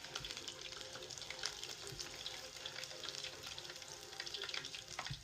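Battered chicken pieces fry in overly hot oil, a faint, continuous crackling sizzle with scattered pops and no talking.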